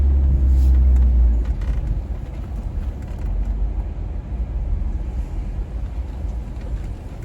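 Low rumbling of a car idling and then creeping forward in a drive-thru line, loudest at the start and then settling into a steady engine drone, close by with no talk.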